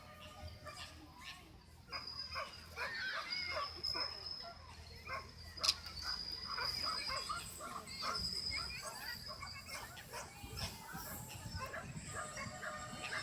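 Small dog barking in a park at an outdoor dog show area, with several yaps scattered through the scene amid birdsong, children's voices and background chatter.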